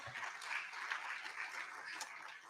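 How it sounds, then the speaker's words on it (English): Audience applause at a plenary conference session, a dense steady patter of many hands clapping throughout, fairly distant and moderate in level, with no talking over it. "Let's give him another warm round of applause."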